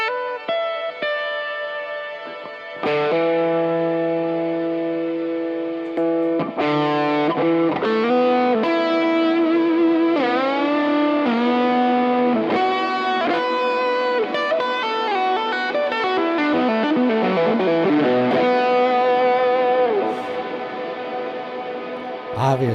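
Electric guitar drenched in heavy reverb and distortion, sustained notes and bends with pitch slides ringing out into long washy tails, loud and alone with no talk.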